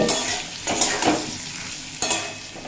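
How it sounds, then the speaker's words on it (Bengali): Bottle gourd pieces are stir-fried in a pan, with a steady sizzle and a few scraping stirs of a spatula against the metal, close and fairly loud, with no talking. "সেই লাউ দিয়ে এক মিনিট মতো নাড়াচাড়া করে নেব"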